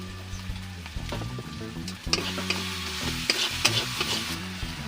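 A spice paste of chili and turmeric sizzles in hot oil while being stirred, with continuous frying crackle and repeated scraping, clattering strokes of the spoon against the pan, close and fairly loud, no talking.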